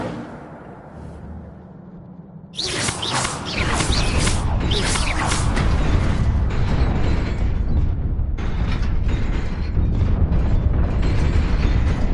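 The Incendio fire spell cast in Hogwarts Legacy, a sudden loud whoosh and roar of flame that bursts in after a quieter start and keeps burning with crackles and booms.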